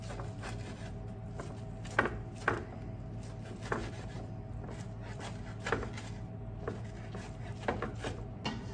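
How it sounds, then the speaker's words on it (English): Knife chopping spinach on a board for saag aloo, a handful of sharp, irregular chops standing out over a steady background hum, close by. "chopped up our spinach"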